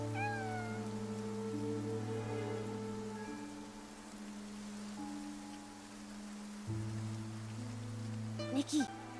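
A cat meows a few times at the start in the video game Infinity Nikki, faint over a steady electronic hum and layered game tones, followed by a brief soft patter near the end.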